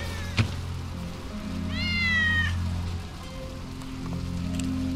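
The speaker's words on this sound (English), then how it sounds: "That's Wedge's cat." Wedge's cat in the video game Final Fantasy VII Remake gives a single drawn-out meow, fairly close, over a steady hiss of rain and low ambient hum.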